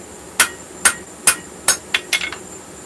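A hammer strikes hot metal to punch a hole during blacksmith forging, ringing out in about six sharp, close blows at a steady pace and then a quicker cluster of lighter taps.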